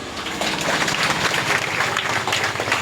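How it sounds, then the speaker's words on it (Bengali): Audience clapping at a church inauguration during a key handover to a bishop, a dense, steady burst of many hands applauding together, close and continuous for the whole stretch. "আমরা সবাই করতালি দিই"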